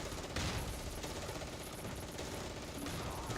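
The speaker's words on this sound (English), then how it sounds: "the mortars letting loose" Mortar fire and battle noise in the Close Combat 3 war game: a dense, rattling wash of distant bursts and repeated thumps, fairly faint and continuous, with no talking.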